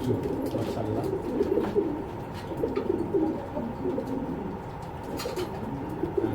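Racing pigeons at a breeder's loft coo steadily in a dense, overlapping chorus that runs throughout, close and fairly loud, with occasional faint chirps and no one speaking.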